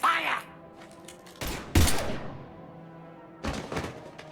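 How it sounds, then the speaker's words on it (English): Gunfire in the Mass Effect 3 video game, a few scattered sharp shots and thuds in short bursts separated by quieter gaps, with a voice heard briefly. "Now open fire!"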